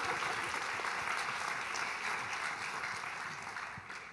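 An audience at a film panel discussion breaks into applause, a dense continuous patter of many hands that holds steady and then eases slightly toward the end, heard alone without talk.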